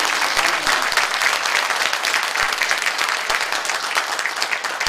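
An audience at an apartment complex redevelopment briefing claps steadily for about five seconds, a dense, even wash of applause throughout with no voices on top.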